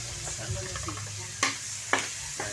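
Carrots sautéing in a pan for a Filipino chicken and vegetable dish, a steady soft sizzle with a few sharp utensil scrapes and clacks against the pan.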